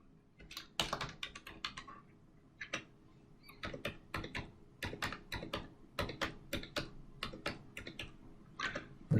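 Rapid, uneven keystrokes on a computer keyboard as payment card details are entered, close and clear, with short pauses between bursts of clicking.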